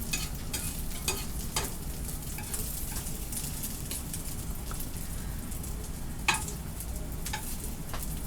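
Egg foo young mixture fries in oil in a pan, giving a continuous close sizzle and crackle with a few sharper spatters and stirring scrapes.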